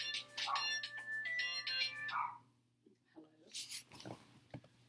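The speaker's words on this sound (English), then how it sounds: "my aunt's cell phone just went off" A cell phone ringtone goes off nearby with a melodic electronic pattern of repeated tonal phrases for about two seconds, followed by talk and rustling.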